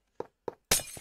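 Glass shatters in the Minecraft video game: two short clinks, then a loud, bright burst of breaking glass with a scattered tail of falling shards.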